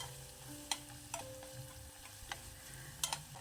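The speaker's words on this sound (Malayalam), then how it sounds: "നല്ലവണ്ണം ഇളക്കി കൊടുക്കുക" Onion and ginger garlic paste sautéed in a pan for tomato kurma, stirred with a spoon: a soft low sizzle broken by occasional scraping clicks against the pan, quiet and close.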